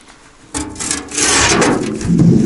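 A heavy metal tar-rendering drum used for making charcoal is turned over, giving a loud, close scraping and grinding rumble that starts abruptly, then swells into a sustained rough rasp, with no talking.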